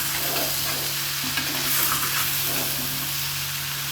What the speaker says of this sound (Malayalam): നമ്മൾ കഴുകിയെടുത്ത് വെച്ച നെത്തോലി ഇല്ലേ അതെടുത്ത് കൊടുക്കാം. ഇനി ഇത് നല്ലതുപോലെ മിക്സ് ചെയ്യാം.